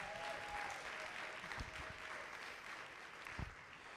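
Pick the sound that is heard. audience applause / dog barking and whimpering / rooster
audience applause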